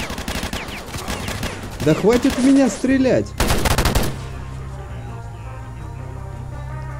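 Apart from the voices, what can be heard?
gunfire in the video game S.T.A.L.K.E.R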